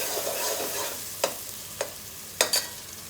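Brown rice with vegetables stir-frying in plenty of oil gives a continuous sizzle broken by a few sharp scrapes and stirs of the spatula against the pan.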